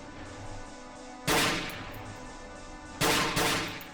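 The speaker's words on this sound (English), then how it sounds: "Just keep shooting him." Gunfire in the horror video game Cry of Fear, two sharp loud shots about two seconds apart, each with a short ringing tail over a steady low game ambience.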